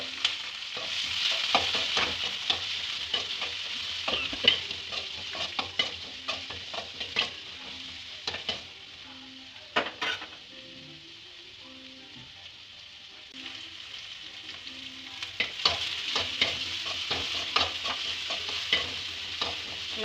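Sliced onion and green chillies sauté in hot oil with curry leaves, a steady close sizzle broken by repeated scraping stirs of a spoon against the pan, quieter for a stretch midway, with no talk.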